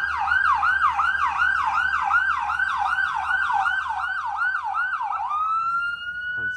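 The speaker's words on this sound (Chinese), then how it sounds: "不是警察，救护车。" An ambulance siren wails in a fast, repeating rise-and-fall pattern on a roadside street in Toronto, loud and close as it passes, then the tone slides and fades near the end with no talk over it.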